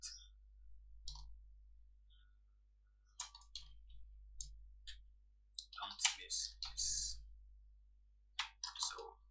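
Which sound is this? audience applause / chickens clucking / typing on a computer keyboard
typing on a computer keyboard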